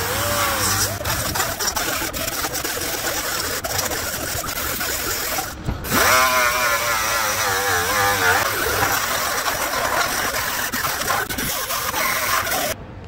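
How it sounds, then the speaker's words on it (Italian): An angle grinder grinds down excess welded plastic, a loud continuous rasping whine that holds steady for over twelve seconds, with a brief dip in the middle before the grinding resumes. "prendiamo il nostro smeriglio e diamo giù al grosso con lo smeriglio"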